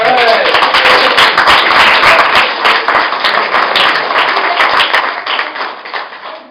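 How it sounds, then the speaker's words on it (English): Audience applause after a neurobiology talk: a dense, close burst of clapping from a crowd, loud at first and gradually thinning out, with some voices mixed in. "Everybody have another round of applause for Sarah."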